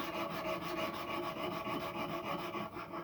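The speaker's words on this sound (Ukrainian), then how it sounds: "мені треба пройтися клиночок наждачкою, наждачним папером, його підготувати" Continuous rasping of sandpaper rubbed rapidly back and forth on a knife blade, close and steady with a rhythmic scratchy pulse.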